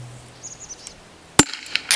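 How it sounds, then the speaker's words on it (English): A green gas shell loaded into an M203 airsoft grenade launcher, a quiet click followed by one sharp loud metallic snap and a few smaller clacks. "pop your shell in and smack it back"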